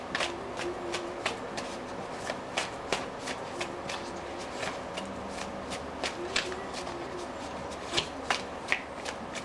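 Tarot cards shuffled by hand in a quiet room, a continuous papery riffle punctuated by sharper slaps and taps, close and fairly soft.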